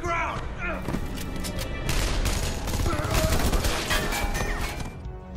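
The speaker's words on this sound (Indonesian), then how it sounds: "tiba-tiba Murphy, Pike, dan Indra datang dan menembak para penjaga" Guards are shot down in a scene from The 100, a loud volley of gunfire with crashing impacts that swells and holds for several seconds, mixed with film sound and voices.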